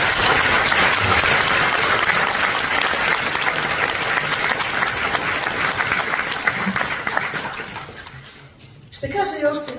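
A festival audience breaks into loud, sustained applause, dense clapping filling most of the stretch before fading out near the end, where a voice begins speaking.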